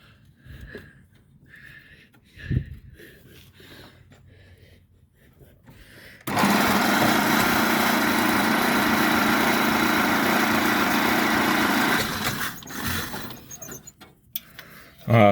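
An old 1927 Pirsch fire truck engine cranks and catches, roaring into a loud, steady run for about six seconds before cutting out, with people talking quietly before and after.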